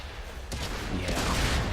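A BT-7 tank's autoloader cannon fires in World of Tanks: a sharp blast hits about halfway through and leaves a dense, noisy rumble that holds steady to the end.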